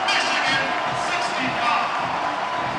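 A basketball crowd rushes the court after a game-clinching finish against Northwestern that sends the team to its first NCAA tournament, with loud, dense cheering and roaring that continues steadily throughout, no clear voice above it.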